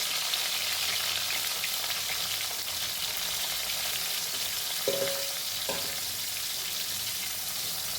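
Ivy gourd pieces frying in oil in a wok on a gas stove, with a dense, continuous sizzle close up. Two brief stirring or utensil sounds break through near the end.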